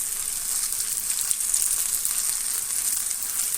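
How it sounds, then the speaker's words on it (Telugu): Bitter gourd pieces shallow-frying in a pan until golden, giving a dense, even hiss of hot oil that stays loud and constant throughout. "కాకరకాయ ముక్కలు ఫ్రై అవుతున్నాయి"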